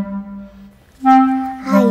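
An instrumental melody imitating a cuckoo's call: a held lower tone, a pause, then two rising bright notes, played alone and clearly.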